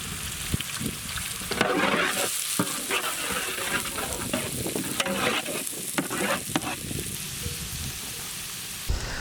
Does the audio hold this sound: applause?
no